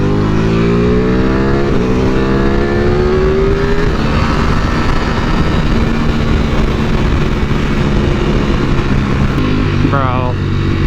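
A Ducati Panigale V4 R sport motorcycle engine during a ride, loud and close, rising through the revs with shifts and steady wind rush all the way through.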